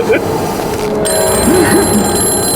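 A telephone bell rings with a bright, steady metallic trill over rough background noise, while agitated voices talk underneath it.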